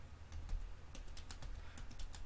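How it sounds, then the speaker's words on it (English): Quiet, irregular clicks of keys being typed on a computer keyboard, close by, with a low hum underneath. "So now let's try to type that sentence."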